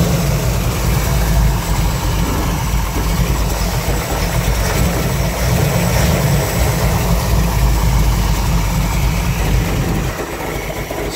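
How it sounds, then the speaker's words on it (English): A Chevy Nova big block engine idles steadily while warming up, a loud, continuous low rumble close by with no talking, easing slightly quieter near the end. "This car takes so long to warm up."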